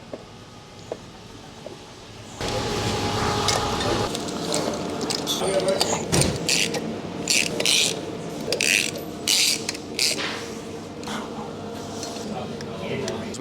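Ratchet tightening bolts on a Barra engine swap near the transfer case, with repeated quick clicking bursts over a low background hum and occasional metallic clinks.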